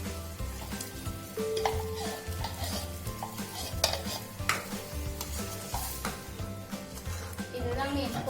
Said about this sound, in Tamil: நல்லா பபிள்ஸ் வர அளவுக்கு நம்ம ஸ்டிர் பண்ணிட்டே இருக்கணும்